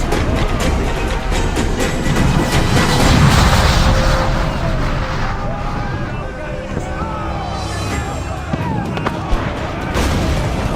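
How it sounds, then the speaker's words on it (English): Ship cannons fire during a naval battle in Assassin's Creed IV Black Flag, heard as dense rumbling booms and blasts mixed with shouting crew and constant sea and battle noise. "Man the cannons!"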